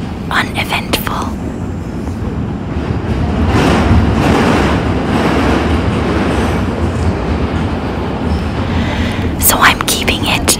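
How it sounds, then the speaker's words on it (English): A New York City subway train running between stations on a Monday morning commute from Queens to SoHo, with a loud, continuous rumbling roar, rhythmic clickety-clack of wheels over rail joints, and brief squeals at the start and end. "Just enjoy the clickety-clack of the train"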